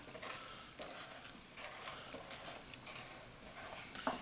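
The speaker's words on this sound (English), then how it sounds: "now all we're going to do is just kind of stir this around" A pot of sausage and cheddar beer soup being stirred, a soft, faint swishing with occasional light scrapes under a low, steady hiss.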